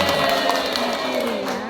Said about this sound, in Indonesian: Oke, tepuk tangan untuk Anda semua.